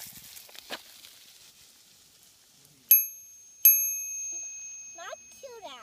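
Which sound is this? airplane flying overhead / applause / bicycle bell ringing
bicycle bell ringing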